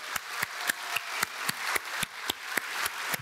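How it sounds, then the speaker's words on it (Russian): Loud, steady applause from a conference closing-session audience, with sharp claps landing in a regular beat, roughly four per second, and carrying on evenly throughout. "мы аплодируем очень громко"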